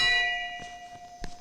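A bell rings with a lingering metallic hum, struck several more times in quick, softer strokes before one last sharp clang near the end.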